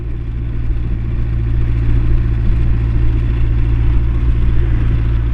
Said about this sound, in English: I will try my best to record the sound of the engine